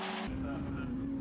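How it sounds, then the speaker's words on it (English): Caterham race cars accelerating on a track at Snetterton in 2004, a steady engine drone holding one pitch and rising slightly, with commentary talking over it throughout. "The cars now, though, accelerating up towards the completion of another lap."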